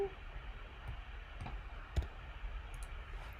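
Mouse clicks while working in Fusion 360, a few faint, isolated ticks over a low computer hum.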